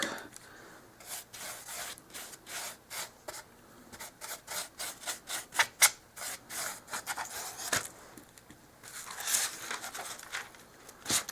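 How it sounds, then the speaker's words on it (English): A brush dragging paint across a doll-size wooden fireplace, a quick series of soft scratchy bristle strokes in an irregular rhythm, close and quiet, with no voices. "And I'm just going to put a coat of paint."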